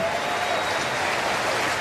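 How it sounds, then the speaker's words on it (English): Baseball crowd in a stadium applauding and cheering in a steady ovation for a limping player after a great catch in a Minnesota Twins vs Milwaukee Brewers game, a broad sustained wash of clapping lasting throughout, with faint commentary underneath. "He's going to get a great ovation from the crowd"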